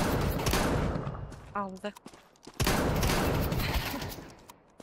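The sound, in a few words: shotgun firing in video game Counter-Strike 2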